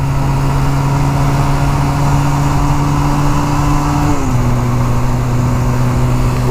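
A Honda 250 Rebel motorcycle runs hard on a highway with a loud, constant engine drone and rushing wind. The engine pitch drops abruptly about two-thirds through, then holds steady at the lower note.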